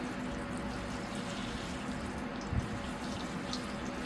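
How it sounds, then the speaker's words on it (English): Water from a tap runs in a steady, soft stream, rinsing soap out of the soil and off the leaves of a Vietnam-style bonsai ficus, with one brief splash midway. "it's time to rinse the tree down"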